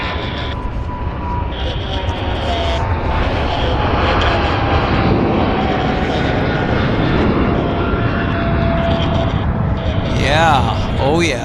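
A jet airliner taking off from runway 08 at Vancouver Airport, a loud, sustained engine roar with a steady whine, heard from nearby and continuous throughout, with people talking briefly near the end.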